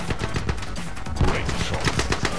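Assault rifle fire in The Club, a shooting video game, comes as dense, loud bursts of rapid shots and impacts that crack continuously without a break, mixed with game noise.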